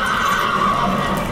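Horse neighs loudly in the horror video game Layers of Fear, a steady whinnying call lasting about a second and a half, standing alone without speech.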